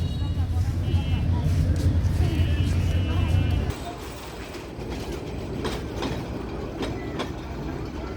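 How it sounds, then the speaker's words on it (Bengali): A train from Dhaka rumbles across the old British-era Kalurghat Bridge in Chittagong with heavy, steady clatter, then the rolling noise thins to lighter rhythmic clanking as the cars continue over. "এখন যে ট্রেনটি যাচ্ছে এটি ঢাকা থেকে আসছে"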